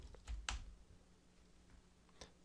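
Keys tapped on a computer keyboard, a few quick soft clicks scattered across a short quiet stretch with no talking.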